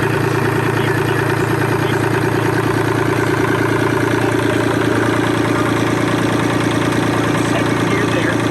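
A tractor engine runs steadily at idle with a constant mid-pitched rumble and vibration as the clutch is pushed in and gears are shifted, loud and close throughout.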